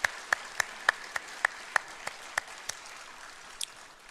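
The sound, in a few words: congregation applause welcoming newcomers in church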